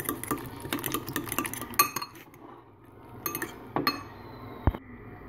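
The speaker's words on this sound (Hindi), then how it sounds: "ये देखिए मैंने अंडा अच्छे से फेंट लिए" An egg is beaten with a whisk in a bowl, producing quick bursts of bright metallic clinking and scraping in an irregular rhythm, with short pauses between rounds of whisking.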